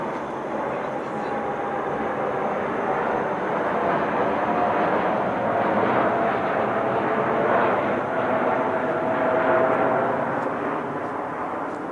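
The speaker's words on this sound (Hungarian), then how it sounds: "körülbelül így percenként zúg el a fejünk fölött egy repülőgép, ugyanis nem messze van a Heathrow, mint reptér" Jet airliner passing overhead near Heathrow airport, a loud, steady broadband roar that swells slightly and holds throughout the clip.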